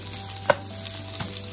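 Leftover grilled mackerel fried rice being mixed in a pan, a short low sizzle with a scraping stir and one clear utensil clink near the start, close and fairly quiet.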